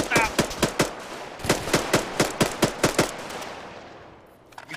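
Bursts of machine gun fire crack out in the military shooter Arma 3, a rapid series of sharp, loud shots in two clusters, then a fading echoing tail.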